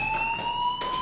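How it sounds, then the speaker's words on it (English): A fire alarm rings in the video game Life Is Strange, a steady high electronic tone held throughout with no pauses, loud and close, with no talking over it. "Hey, do you hear that fire alarm?"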